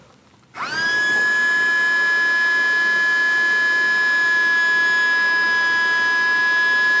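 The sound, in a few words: Henry desk vacuum with turbo blowing air out the back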